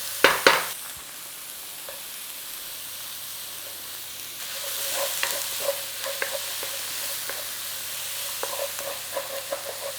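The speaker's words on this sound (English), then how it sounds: "In with your onion. Nice little stir around." Onion frying in butter in a pan, sizzling steadily while a utensil stirs it, with scraping clicks and bursts of hiss after an opening clatter; close and alone, no talking.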